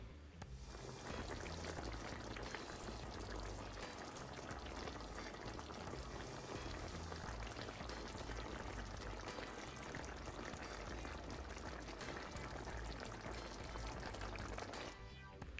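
Brown stew chicken wings simmer in a pan, giving a steady, dense bubbling and sizzling hiss that holds constant and fairly faint throughout, with no voices.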